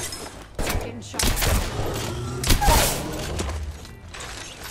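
Gunfire strikes the player in Apex Legends, a handful of loud, bursting impacts with booming thuds spread through a busy game mix, the heaviest hits landing early and midway.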